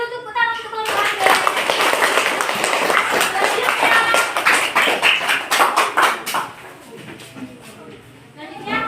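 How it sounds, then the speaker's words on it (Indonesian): An elementary school class claps together for a group, a steady stretch of many hands tapping that thins out near the end, with children's voices mixed in. "Kasih dulu tepuk tangan untuk kelompok."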